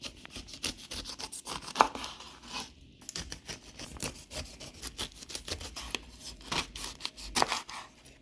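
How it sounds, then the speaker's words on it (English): A knife cuts down the sides of a pineapple with close, quiet scraping and crunching strokes that come in uneven bursts, with a short pause midway. "You want to cut the top off and the bottom."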